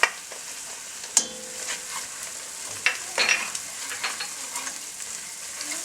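Ginger hits golden brown onions frying in a pan for chicken rogan josh, a close, steady sizzle broken by sharp clatters and stirring scrapes, with no talking.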